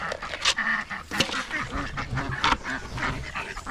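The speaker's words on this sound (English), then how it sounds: "There's the ducks." Several ducks quack repeatedly in a noisy, overlapping chorus, fairly close and loud, with a few sharper honks mixed in.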